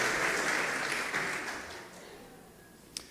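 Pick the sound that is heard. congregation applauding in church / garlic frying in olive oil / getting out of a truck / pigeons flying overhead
congregation applauding in church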